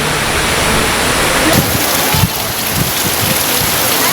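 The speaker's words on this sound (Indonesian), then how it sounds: "fenomena hujan es disertai angin kencang terjadi di Kabupaten Maros, Sulawesi Selatan" Heavy rain with hail and strong wind roars in a dense, steady wash of noise, pouring hard and constant throughout with no pauses, in Maros Regency, South Sulawesi.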